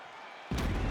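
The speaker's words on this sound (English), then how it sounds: "So the crowd voicing its appreciation after that round" A crowd in the UFC video game on PS5 breaking into loud cheering and applause after a round, rising abruptly from a quiet arena hum and holding strong.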